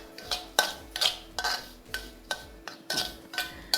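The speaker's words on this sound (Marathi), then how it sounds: "मी याला दोन ते तीन मिनटं मंद आचेवर भाजून घेतील" Semolina (rava) dry-roasting over low heat in a pan while a spoon stirs it, giving a series of distinct scraping, clinking strokes against the metal at a steady, unhurried rhythm, close and fairly soft.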